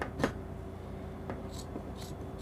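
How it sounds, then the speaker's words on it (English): Scissors cutting out fabric for a bubu dress, producing a few soft, scattered snips and rustles close by against a quiet background hum. "So next is for me to cut this out."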